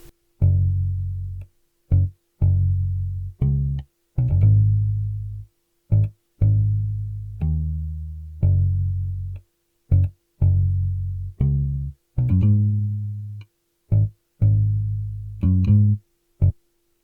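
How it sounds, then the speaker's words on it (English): Synth bass from a Modo Bass rig preset plays a repeating pattern of short and sustained notes with gaps between them, heard alone for a 70s soul sample. "And this time I used a rig and bass, also from modo bass, and it's playing the same pattern"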